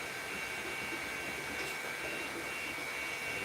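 A vacuum cleaner hums through a house, giving a continuous airy roar at a constant level that does not change.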